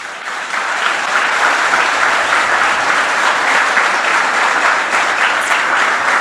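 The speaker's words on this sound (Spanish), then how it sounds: "¿Cuántos le aplauden?" A church congregation applauds during a sermon, a dense, sustained burst of clapping from a large crowd that holds steady and loud throughout with no talking over it.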